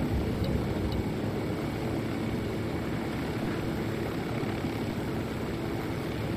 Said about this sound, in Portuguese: Vamos baixar aqui o helicóptero.